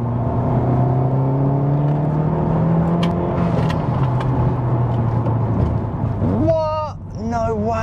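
Honda Civic Type R FK8 with a 2-litre turbocharged VTEC engine revving from inside the cabin, a steady climbing drone with rising harmonics, then a sharp swell and quick rev blips near the end, while a person talks over it.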